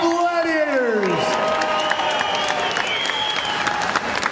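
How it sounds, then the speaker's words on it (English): Crowd applause at a live MMA fight night after three rounds between two fighters. Steady clapping and cheering run throughout, under an announcer's voice whose pitch sweeps and echoes across the hall. "let's give a big round of applause to both of these Lights Out Gladiators"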